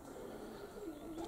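A newly hatched young Budapest pigeon coos softly, a faint low murmuring call over a quiet background hum.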